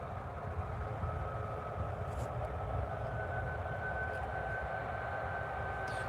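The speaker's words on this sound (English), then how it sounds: "So we've got Ryanair 737 Max on taxi" A Ryanair Boeing 737 Max taxis at Newcastle Airport, its engines giving a steady, moderate jet drone with a faint whine that holds evenly from start to end, heard from some distance.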